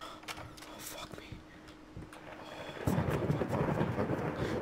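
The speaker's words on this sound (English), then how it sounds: "Shut up, thunder! And or lightning." Rumbling thunder rolls through a storm in the horror game Layers of Fear, a low growl that swells louder midway and continues with rain-like hiss, while a player talks over it.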